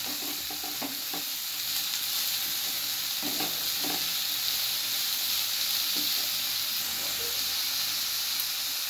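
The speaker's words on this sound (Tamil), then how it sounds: "பீன்ஸையும் வேக விட்டுறோம் நம்ம" Beans, onion and tomato frying in a pan, a steady close sizzle and hiss with occasional stirring scrapes and clatters, no talking.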